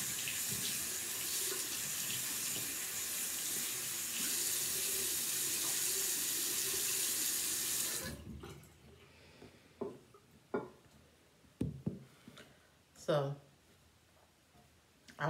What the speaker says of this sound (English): Just actually rinse my hand off.